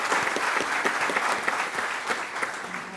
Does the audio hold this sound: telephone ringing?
no